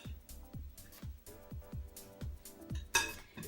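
Meal-prep food with halved grapes is mixed in a dish, a steady rhythm of soft thumps and clinks of a utensil against the container, close and fairly quiet, ending with a brighter scrape.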